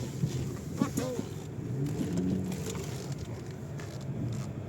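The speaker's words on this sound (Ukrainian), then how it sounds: "Газую, а вона не їде." A car with a failing gearbox has its engine revved as the driver presses the gas, a low droning rumble under wind buffeting and someone talking nearby.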